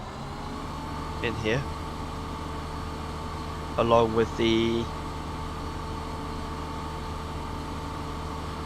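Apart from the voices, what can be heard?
combine harvester engine idling while parking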